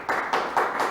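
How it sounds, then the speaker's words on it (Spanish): A few sparse claps from a small audience at a library cultural event, four separate soft hits inside one second with no other sound. "Un aplauso, señoras y señores."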